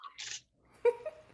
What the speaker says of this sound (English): every time I use pepper in these classes, I sneeze.